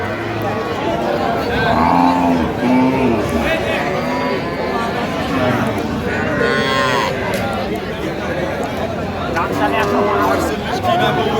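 Cows and calves moo repeatedly amid a busy crowd of chattering voices at a cattle market, the lowing calls rising over the steady market babble.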